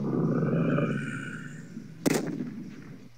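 A long-range shotgun fires once in a video game, a sharp, loud blast with a brief rumbling tail, following a stretch of low voice-like rumble.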